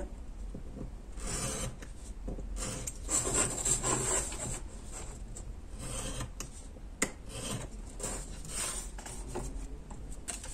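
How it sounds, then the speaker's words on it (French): A craft cutter knife slices through paper during scrapbook work on a Christmas photo mini album, giving a near, continuous rasping scrape in uneven strokes with a sharp tick near the end. "je ne vais pas couper au ciseau, j'ai mis le cutter"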